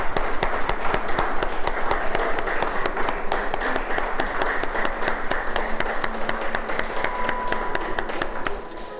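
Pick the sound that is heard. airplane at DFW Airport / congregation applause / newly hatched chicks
congregation applause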